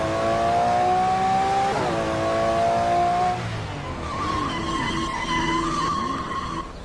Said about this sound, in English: Disabling ABS will cause our car's wheels to lock up and cause our car to spin